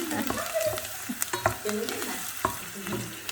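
Food sizzles and fries in a pot while a spoon scrapes and stirs repeatedly, with clattering knocks against the metal.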